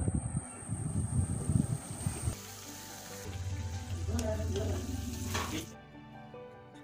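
Falafel spring rolls deep frying in oil over medium-high flame: bubbling and crackling at first, then a softer, steadier sizzle with a few clinks before it quiets, while a voice talks faintly over the frying.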